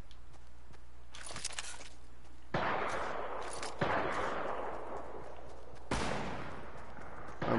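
Sniper fire in Fortnite: three sharp, loud cracks spaced a few seconds apart, each trailing off into a long echo, over a low hum with no talking.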